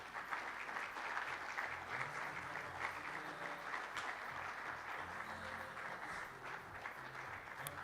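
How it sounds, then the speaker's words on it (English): A conference audience at an energy plenary session applauds, steady, moderately distant clapping from many hands that continues evenly for several seconds with no speech over it. "Let's give it a resounding round of applause"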